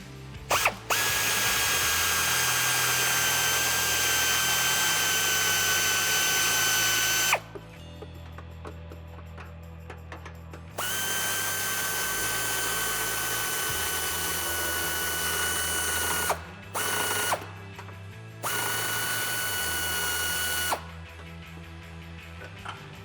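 A 19 mm socket on a ratchet or power tool whirs and clicks in long bursts, removing side bolts from a Jeep Wrangler JL rear bumper, loud and close, with brief pauses between runs.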